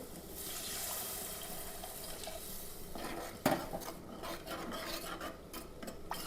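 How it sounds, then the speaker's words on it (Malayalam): Water splashes into a curry pan with a steady rasping, scraping wash, near and fairly faint, broken by a sharp metallic clink partway through and a few scrapes of utensils against the pan. "വെള്ളം ഒഴിച്ച് കൊടുക്കാം"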